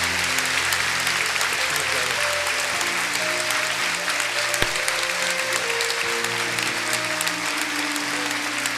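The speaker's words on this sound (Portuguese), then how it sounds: "could the rest of us just give a huge round of applause" A church congregation gives a long, loud round of applause, a dense continuous roar of clapping with a held organ or keyboard chord sounding softly underneath.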